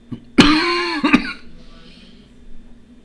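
A person coughing close to a microphone, two sharp loud coughs about a second apart followed by a fading, quiet tail.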